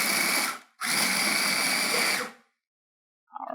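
A food processor pulses nuts for raw nut meat in two loud, close whirring bursts, a short one and a longer one of about a second and a half, followed by silence and a faint start.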